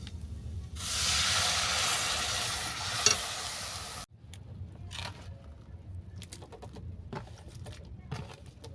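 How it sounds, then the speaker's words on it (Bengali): A loud burst of sizzling hiss as snake gourd and water hit a hot pan of fried lentils, fading after a few seconds into scattered stirring and clinks. "এবার আমি জল দিয়ে চিচিংয়েটাকে তুলে দেবো।"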